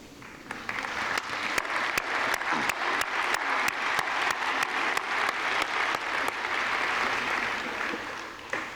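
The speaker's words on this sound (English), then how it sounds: "give them a well-deserved round of applause" A graduation audience at a nurse pinning ceremony applauds the graduates' families, with dense, sustained clapping from a large crowd filling the hall evenly for nearly nine seconds, with a few sharper claps standing out.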